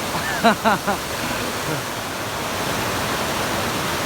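A steady, loud rush of falling water from a waterfall in the Lake District fills the whole clip, with a few brief voice sounds near the start.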